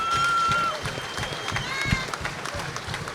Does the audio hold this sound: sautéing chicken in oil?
no